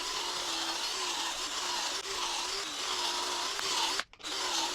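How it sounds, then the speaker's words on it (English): A power drill whirs steadily with slight pitch dips as it drills holes into wood for a patio chair, running almost continuously before a brief stop near the end. "I'm going to drill down the rest of these holes"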